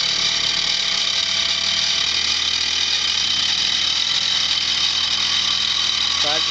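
A machine steadily cutting a brass upper right eye flap at ten-thousandths of an inch per pass, a continuous loud mechanical whir and hiss with a low motor hum throughout.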